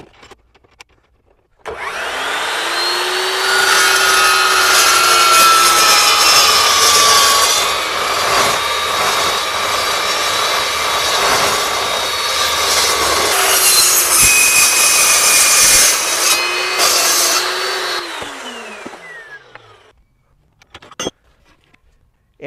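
An Evolution S355 14-inch steel miter saw cuts through metal square tubing: the motor spins up, a loud sustained grinding whine runs for about sixteen seconds, then the blade winds down, followed by a few clanks.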